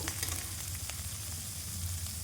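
Garlic and ginger frying in hot oil for a tempering, a steady close sizzle with faint crackle throughout, no voices.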